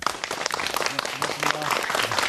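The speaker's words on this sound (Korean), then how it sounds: "박수로 맞아주시기 바랍니다" A television studio audience claps to welcome a guest, the head of a national maritime heritage research institute, with dense close applause over which a voice briefly speaks.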